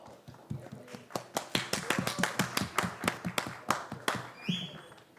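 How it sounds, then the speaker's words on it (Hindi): An audience claps at a television show cast event for actress Reem Sameer Sheikh, with crisp, fairly regular claps at moderate volume and a brief tonal sound near the end. "एक बार जोरदार तालियां हो जाए for the very beautiful Reem Sameer Sheikh"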